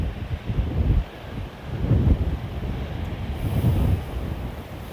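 Wind gusting along the Spanish coast, rumbling low and loud in three surges with roar and buffeting, alone and close.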